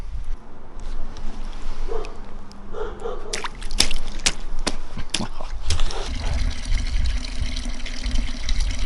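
A sleeping bag is pushed down into water and squeezed so it soaks up liquid. Close splashing, sloshing and dripping come in uneven bursts, with a steady bubbling fill toward the end and no speech.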